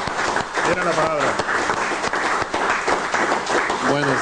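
A crowd at a political speech event applauds steadily, the clapping continuing beneath a voice as he speaks loudly over it.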